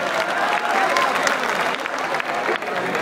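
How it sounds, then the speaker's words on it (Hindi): Loud, sustained applause from an audience at a poetry recital, dense clapping continuing steadily for about three seconds with a faint murmur of voices underneath. "जोरदार तालियां बजाते हैं।"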